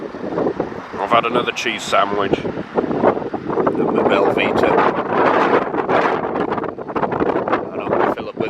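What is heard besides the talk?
wind blowing over an estuary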